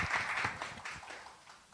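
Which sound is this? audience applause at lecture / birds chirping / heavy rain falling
audience applause at lecture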